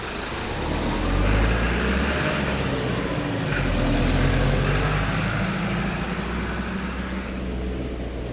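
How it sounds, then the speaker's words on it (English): Steady roar of busy road traffic, cars and heavier vehicles passing continuously with a constant rumbling wash of engine and tyre noise. "You can probably gather from the traffic noise that we're not exactly out in the countryside today."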